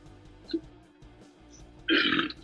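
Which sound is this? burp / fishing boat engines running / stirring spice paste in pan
burp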